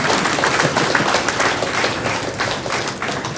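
Audience at a forum applauds the organisers, a loud, dense burst of clapping from many hands that carries steadily through the moment.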